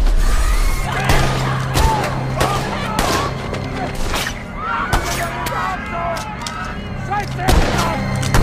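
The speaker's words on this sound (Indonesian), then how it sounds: "Dalam baku tembak tersebut, Hendrik terluka di bagian dadanya," Gunfire rings out in a war film scene, repeated sharp cracks and blasts spread irregularly amid chaotic battle noise, with horse whinnies and a narrating voice talking over it.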